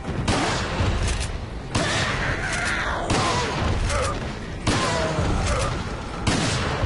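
Gunfire in Resident Evil 4 Mercenaries mode, loud repeated heavy shots landing in regular bursts about every second and a half, each followed by a ringing tail.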